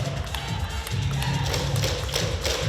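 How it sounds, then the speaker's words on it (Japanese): A crowd at a T.League table tennis match between Okayama Rivets and Shizuoka Jade in a Kurashiki arena claps in rhythm with megaphones, a loud, steady beat of taps over a low rumbling crowd. "手拍子で"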